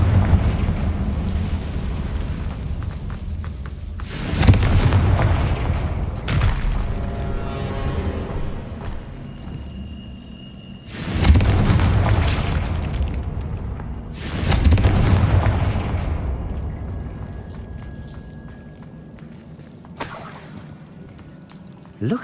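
Loud magical blasts from the Confringo spell in Hogwarts Legacy, heard as several separate booming impacts with crackling, shattering tails, spaced a few seconds apart over quieter game ambience.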